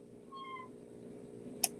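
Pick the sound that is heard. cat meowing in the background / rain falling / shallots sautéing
cat meowing in the background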